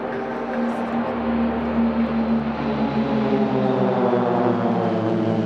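Swiss Air Force Pilatus PC-7 turboprop trainers fly past in tight formation at an airshow, a loud, steady, droning propeller roar with layered engine tones that slowly shift in pitch.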